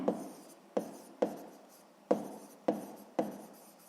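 Pen or pencil writing numbers on paper for a sixth-grade math exercise, six distinct scratchy strokes in an uneven rhythm, close and fairly quiet with no talking.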